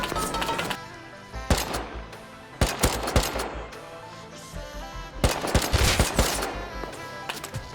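Gunfire in the survival game Rust: repeated loud bursts of automatic fire and single shots, separated by short lulls, with no talking.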